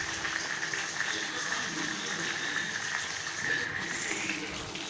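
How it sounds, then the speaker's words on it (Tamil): Sambar simmering at a strong boil in a covered pot, a soft continuous bubbling and hiss that stays steady and fairly quiet throughout, with no voices over it. "பார்த்திங்கன்னா நல்லா கொதி வருது."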